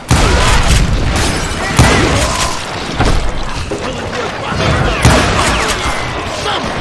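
Gunfire in a Call of Juarez Gunslinger shootout: loud, close, repeated shots and booms in rapid irregular bursts with crashing impacts, dense and continuous throughout.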